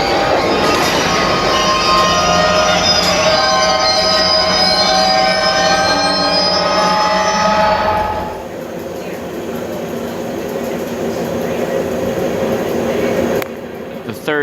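Parked double-stacked freight train in Glenview pulls away, a loud steady rumble with squealing wheels and dense harmonic tones that cut off sharply about eight seconds in, leaving quieter rail noise and faint background sound.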